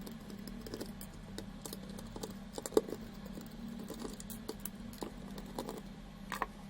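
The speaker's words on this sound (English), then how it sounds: "there are 4 screws we need to remove." Faint, close ticks and small scratchy clicks of a screwdriver working on the screws on the bottom of a Chuwi mini PC, irregular and quiet over a low background hum.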